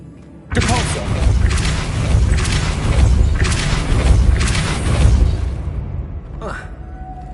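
A Depulso spell cast in Hogwarts Legacy on PS5 lands as a loud booming thud, then rolls on as a dense rumbling, crashing burst for several seconds before a short whooshing tail. A voice speaks over the effects.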